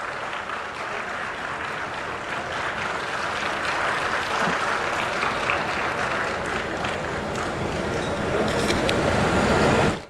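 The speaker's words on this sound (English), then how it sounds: "Let us give a resounding round of applause to this landmark achievement." Audience applause fills a hall at a hybrid maize seed launch event in Eluru, a dense, steady clapping that holds for ten seconds and swells slightly near the end before cutting off.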